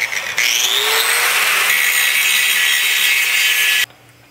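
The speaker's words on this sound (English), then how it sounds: "So I'll just grind these off." Steel pieces for a work table having their cut ends ground down, a loud, steady abrasive rasp held for several seconds, then cutting off abruptly, with no talking.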